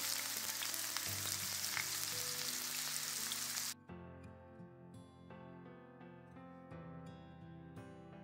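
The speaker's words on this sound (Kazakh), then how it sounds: "Табаға өсімдік майымызға бір пиязымызды сақтап турап, қуырып аламыз." Chopped onion frying in vegetable oil in a pan, a dense, steady sizzle that roars loudly at first, then drops abruptly to a softer, crackling fry with scattered pops.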